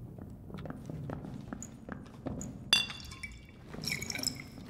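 Footsteps in the PC dungeon game Dark and Darker: a run of soft, evenly spaced steps with glassy clinks and small drips over a low ambient rumble, no voices.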